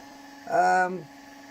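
An electric motor running on a modified generator, fitted with a thermal coupling inside a plastic shroud, gives a short, close, tonal hum that swells up and then dies away within about half a second.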